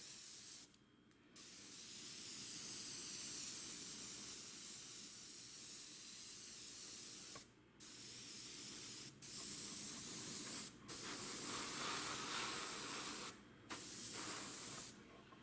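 An airbrush sprays a white coat onto a Motion RC Flightline 1600mm Corsair model plane, a steady close hiss in several long bursts broken by short pauses.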